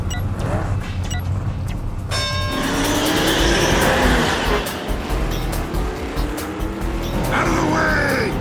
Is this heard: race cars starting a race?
yes